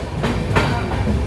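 The Kriya Yoga Express from Howrah runs on rails toward Ranchi, a loud close rumble with a few clacking wheel beats over the brief stretch.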